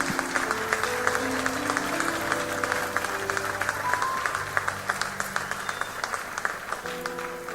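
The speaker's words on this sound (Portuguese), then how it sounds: "Dá uma salva de palmas ao Senhor." A church congregation gives a sustained round of applause during a Portuguese-language worship service, with dense clapping that runs steadily for over seven seconds over sustained organ or keyboard chords.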